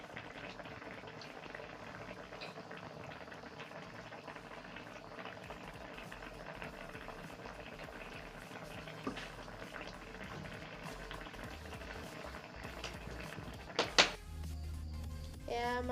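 Fish curry bubbling and simmering in a pan, a soft steady burble with a brief clatter near the end.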